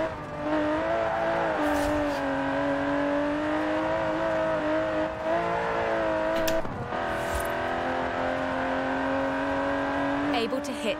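A 5.2-litre twin-turbo V12 in an Aston Martin DB11 drones steadily at sustained revs in Forza Horizon 4, a continuous engine tone with slight pitch shifts and a couple of brief bumps, heard with voices talking over it.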